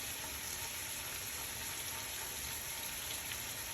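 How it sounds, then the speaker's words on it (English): Meat searing in a pot on high heat for a Colorado pot roast gives a steady, dense sizzle that continues evenly throughout with no talking. "Still just kind of sizzling away in there,"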